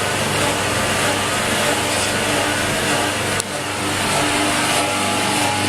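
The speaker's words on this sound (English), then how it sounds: "Just takes a few seconds to get started, but now she's pumping quite well." A steady, loud mechanical drone of a Record Power CamVac CGV286 workshop dust extractor running continuously, with a brief dip partway through before it settles back to the same even hum.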